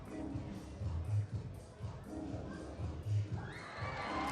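Arena crowd at a men's floor exercise gymnastics event in Varna murmuring and cheering in swelling waves, a steady roar with rising peaks, moderately loud and continuous.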